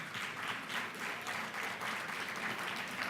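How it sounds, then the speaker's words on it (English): Steady applause from a town hall audience, a dense, continuous wash of many hands clapping at fairly even loudness throughout, with no talk over it. "so let's give Essence a very big applause, if we could, please"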